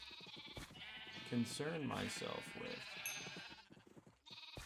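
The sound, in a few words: sheep bleating in Minecraft video game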